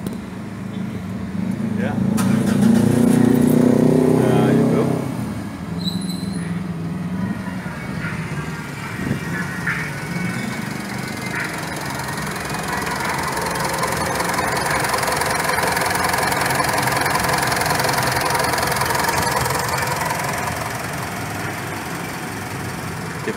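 A 2015 Mitsubishi Pajero Sport Dakar 2.5-litre diesel fitted with an HHO fuel saver cranks and fires, then settles into a steady, rough idle. People talk over the engine throughout.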